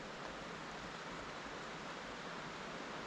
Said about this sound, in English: I can hear fast moving water now, so you can tell we're getting close to the waterfall.